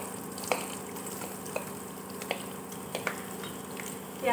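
Onions fry in oil with cumin and asafoetida, giving a soft, steady sizzle with a few sharp clicks of a spoon against the pan, quiet and close.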